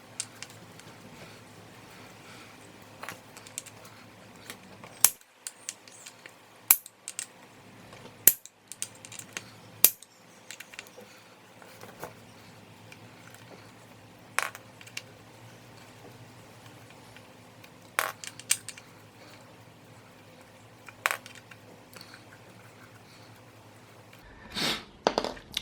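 Allen keys are handled while working on the brake disc bolts of a Xiaomi electric scooter, making sparse light metallic clicks and taps in a quiet room, with a louder cluster of clatter at the end.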